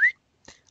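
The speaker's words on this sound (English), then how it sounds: "the whistle." A short rising whistle blast, the Pikmin gather whistle in Nintendo Land, sounds once at the start, then a brief soft click follows after a pause.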